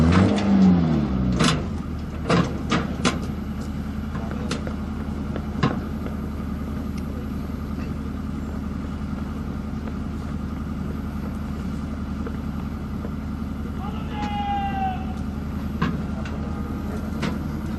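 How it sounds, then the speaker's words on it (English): An FH77 howitzer is moved under its auxiliary power unit engine. A continuous low, rumbling engine drone carries on throughout, with a few sharp metallic clanks early on and a brief faint whine near the end. "The gun is now being moved away to its firing platform to demonstrate its firing. Using the auxiliary power unit"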